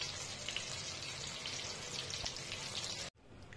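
Boneless chicken for pepper fry hisses and sizzles steadily in a hot pan, a soft, even crackle close by that cuts off abruptly near the end.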